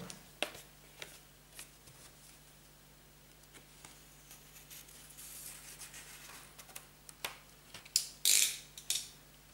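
Packaging on a 2016-edition vinyl record being opened, with faint scattered rubs and small clicks, then a louder burst of crinkling plastic tearing near the end, close and otherwise quiet.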